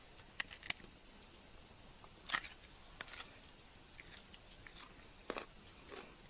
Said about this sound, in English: These baby carrots. Good. Listen to that crunch.